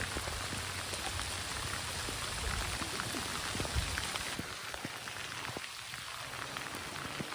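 Steady rain falls on surfaces at a farm, a dense, even hiss of drops with scattered sharper taps throughout, filling the whole stretch without voices.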